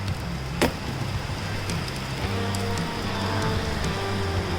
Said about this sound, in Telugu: అంత హెవీగా వర్షం పడుతుంది.